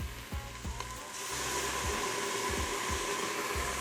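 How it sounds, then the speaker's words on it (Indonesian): Blended red chili hitting a hot pan and sautéing, a few low thumps first, then a dense hissing sizzle that swells and holds steady, close and without speech. "Kita tumis."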